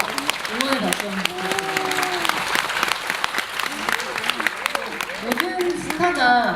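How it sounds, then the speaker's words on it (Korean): Festival audience clapping in encouragement at a film talk event with an actor and director, a full, dense wash of applause with voices talking over it throughout. "응원의 박수 한번"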